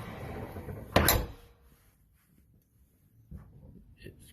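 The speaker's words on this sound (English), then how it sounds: "You can push it down, it only goes that far, but it's far enough to open the door." A door fitted with a Sargent 20 Series panic bar exit device is pushed open, giving one sharp mechanical clack and latch release followed by quiet, then a softer bump a couple of seconds later.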